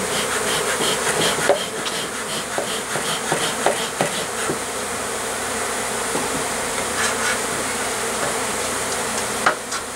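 A honeybee swarm pouring out of a hole while being smoked, giving a dense, continuous loud buzzing drone, with scattered knocks and bumps underneath and no talking.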